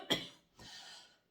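A single sharp cough, close and fairly quiet, followed after a brief pause by a softer breathy throat sound, with no other noise around it.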